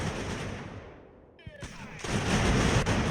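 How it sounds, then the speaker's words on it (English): Musket volley in the Ultimate Admiral: Age of Sail video game, a land battle; a loud crackling burst of gunfire rises out of busy battle noise, followed by sustained rumbling combat sounds. "That's the volley that finally finished them off."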